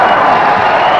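Crowd at a 1981 college basketball game, Northeastern against Holy Cross, roaring and applauding together in a dense, continuous wash of cheering that stays loud throughout.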